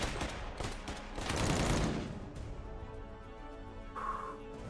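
Bursts of machine gun fire in the VR shooter Cactus Cowboy: Plants at War, firing at robots, dense rattling volleys early on easing into scattered echoing shots, with a brief tonal game sound near the end.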